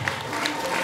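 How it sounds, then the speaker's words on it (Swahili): A short burst of audience applause at a school graduation ceremony, with the crowd clapping together and voices mixed in. "Wapigie makofi jamani"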